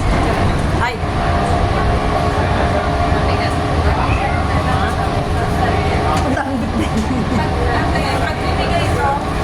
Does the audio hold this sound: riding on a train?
yes